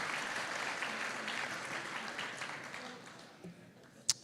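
Applause from a graduation audience for a small group of network administration and security graduates, steady broadband clapping that fades out toward the end, closing with a single sharp click.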